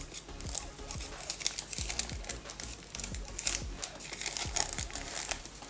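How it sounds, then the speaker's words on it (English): Parchment paper crinkles and rustles as breakfast is wrapped for the freezer, steady close crackling with soft taps and no talking. "This is parchment paper."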